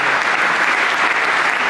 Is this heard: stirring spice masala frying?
no